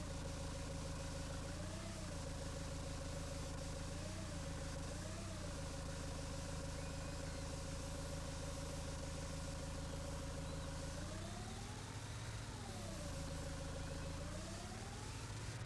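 A low-slung mountain tractor idles in Farming Simulator 19, its steady engine drone holding loud and constant throughout, with the pitch briefly rising and falling a few times as the revs shift.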